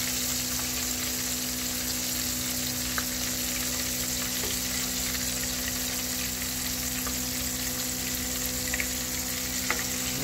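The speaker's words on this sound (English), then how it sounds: "I still got some shrimp cooking" Shrimp frying in a pan give off a steady, dense sizzle that holds evenly throughout, close up and loud, with occasional faint pops.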